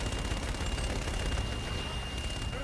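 Artillery strike in the Call of Duty video game: a dense, continuous roar of gunfire and blasts, steady and loud throughout with no pauses.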